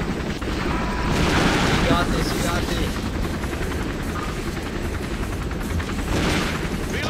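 Helicopter rotor drone mixed with bursts of gunfire in the Alliance of Valiant Arms shooter game, a dense loud wash of battle noise that continues throughout, with players talking over it.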